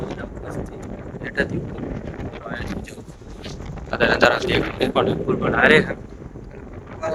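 Strong, gusty wind buffets the microphone outdoors in loud, rumbling surges that swell and fade over several seconds, with people talking underneath.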